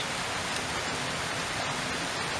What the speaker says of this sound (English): absorbing the sound of the creek and the waterfalls